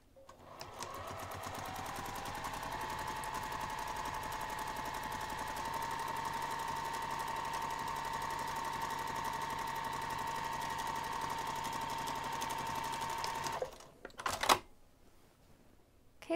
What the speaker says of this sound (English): we're going to take this over to the sewing machine and sew this pinned edge using a 1/4 inch seam allowance